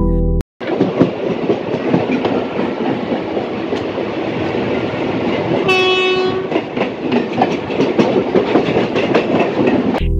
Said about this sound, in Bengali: ট্রেন এখন ঢুকছে পূর্ব বর্ধমান জেলার সবচেয়ে ব্যস্ততম স্টেশন বর্ধমান জংশনে